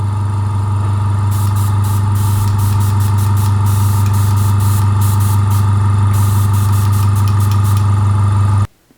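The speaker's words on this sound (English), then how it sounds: "I can't compare it to a more expensive compressor as to how quiet they are or how silent they are." A cheap Fengda FD-186 airbrush compressor runs close by with a loud, steady motor hum and rapid rhythmic piston buzz, continuing evenly before cutting off abruptly at the end.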